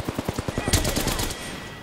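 Rapid automatic gunfire in a video game, a close burst of about a dozen evenly spaced shots with one louder blast near the middle, then a fading tail.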